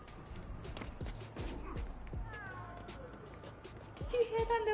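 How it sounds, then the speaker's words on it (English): A small cat meows a few times, its rising and falling cries sitting over a busy background of clicks, thumps and other noise, with a voice talking at times. "Did you hear that little cat?"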